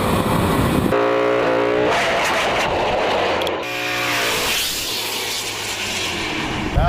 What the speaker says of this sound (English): I think burnouts would cool it down.